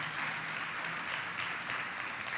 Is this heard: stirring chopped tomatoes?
no